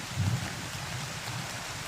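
Soft, steady rain hisses in the background, a faint even patter with a low rumble, no voices.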